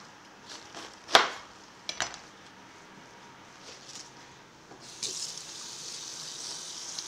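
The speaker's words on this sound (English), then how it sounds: "make sure you wash it well through the leaves." Fresh cabbage for hot pot is rinsed under a kitchen tap, with a few sharp clinks and handling knocks early on, then a steady rush of running water building near the end.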